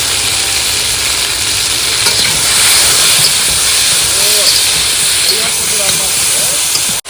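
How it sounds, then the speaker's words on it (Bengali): Chopped ginger hits hot oil in a pan, giving a steady, loud broadband sizzle and hiss that runs the whole time, with small pops and faint voices in the background. "এবার দিয়ে দেবো একটু আদা কুচি"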